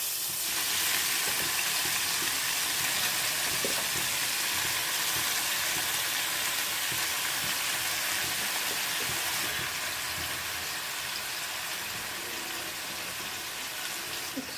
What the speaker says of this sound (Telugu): హీట్ ఎక్కిందండి, ముక్కలు వేసేసుకున్నాము.